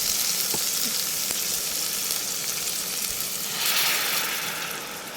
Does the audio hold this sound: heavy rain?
no